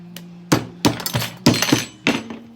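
Chuck steak cutlets are pounded flat with a mallet in a kitchen: five or six sharp, heavy thuds in uneven bursts with short rattling clinks after each blow, loud and close, with no talking.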